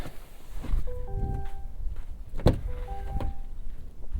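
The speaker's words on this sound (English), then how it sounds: "Here we go, the door opens nice and wide" The door of a Chevrolet Silverado EV pickup opens with a sharp mechanical click near the middle, framed by soft electric whirring tones and handling noises close by.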